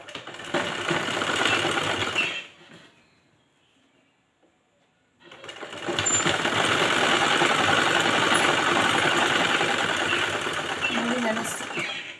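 A sewing machine stitches a boat neck blouse, running in two steady, loud bursts separated by a few seconds of near silence.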